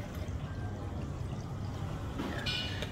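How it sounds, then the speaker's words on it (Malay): Bottled Aqua drinking water is poured into a water bottle, a continuous soft rushing pour that stays fairly even, ending with a brief brighter splash near the end, alone without speech. "Saya letakkan di sini sedikit. Selebihnya ke dalam botol air ini."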